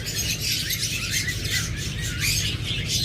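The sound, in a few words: forpus parrotlets chirping in a bird shop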